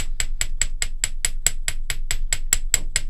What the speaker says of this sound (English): I'm going to hammer this out.